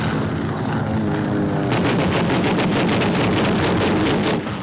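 Warplanes attack a US Navy task force off Saipan in the Marianas, heard as a loud, continuous aircraft engine roar with wind-like rushing, and a pulsing, rhythmic beat that joins midway as a plane closes in.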